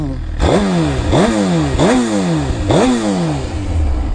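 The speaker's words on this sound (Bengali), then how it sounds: "একটা এক্সস্টের একটা সাউন্ড পাবেন আপনারা" A 1000cc motorcycle on a Dubai street revving hard four times in a row, each loud exhaust roar rising sharply and then dropping back, very close.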